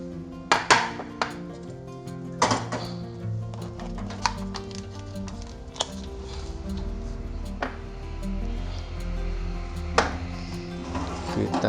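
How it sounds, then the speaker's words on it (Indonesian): Bread dough set into a home oven, with metallic clinks and knocks of a tray and oven parts in a kitchen, a few sharp clanks standing out over steady background noise. "Sekarang kita tinggal masukkan saja ke oven."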